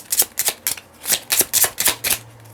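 Tarot cards being shuffled by hand, a quick series of about nine crisp riffling flicks in an uneven rhythm, close and clear with no talking.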